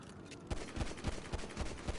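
Rapid pistol shots are fired at a speedboat in GTA 5, landing as a dense run of sharp cracks at an irregular, quick rhythm. The shots are close and loud, with almost no pause between them.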